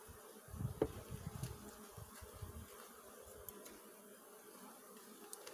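Honey bees buzz around an open hive during a beekeeping inspection, a soft continuous drone with individual insects passing close and fading, alone without talk.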